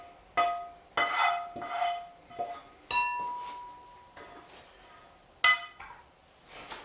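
A bean burger mixture with onions, garlic and oil being worked in a bowl, giving a run of sharp clinks and knocks of a utensil against the dish in uneven bursts with short pauses, close and alone.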